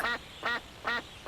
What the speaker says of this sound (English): A duck quacks.